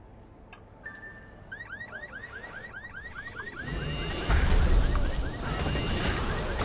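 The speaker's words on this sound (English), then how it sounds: "jump on cars to trigger alarms." A car alarm in The Secret World: Legends whoops in rising, repeating sweeps, then the scene swells into a louder rumbling wash of game noise with a heavy thud near the end.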